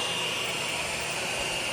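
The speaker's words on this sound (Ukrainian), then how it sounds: "Я і любила завжди пилососити, а зараз тут тим більше." A cordless vacuum cleaner runs steadily on a floor, giving a continuous close, moderately loud whirring hiss with no breaks and no talk over it.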